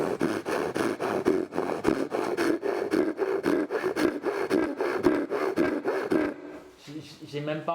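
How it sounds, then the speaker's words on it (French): A Japanese Dozuki saw makes a rip cut along the grain of wood, giving a steady rhythmic rasp of back-and-forth strokes close by, then stopping near the end. "Je vais faire cette première coupe avec la Dozuki sens de fil"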